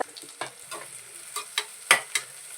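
Onions sautéing in a pan toward golden brown for a home-style chicken biryani, a soft frying hiss broken by a series of sharp spatula scrapes and taps at an irregular pace, close up, no voices.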